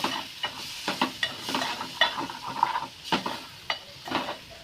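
Red chili masala sautéing in hot oil in a pan for paneer bhurji, with a steady sizzle and repeated scraping stirs of a spoon against the pan, close up and with no talk.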